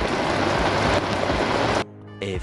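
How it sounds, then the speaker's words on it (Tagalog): Rain pouring down outdoors during a roadside e-bike drum brake repair, a dense, loud, steady hiss that cuts off abruptly partway through. "naabutan tayo ng ulan"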